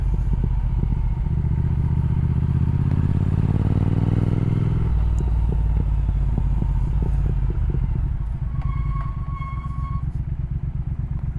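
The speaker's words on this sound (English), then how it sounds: "That was my back brake squealing." Rear brake on a Triumph Speed motorcycle giving a short, thin, high squeal near the end as the bike slows, partly buried under steady engine rumble and wind roar.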